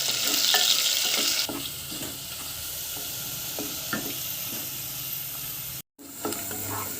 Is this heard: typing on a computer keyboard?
no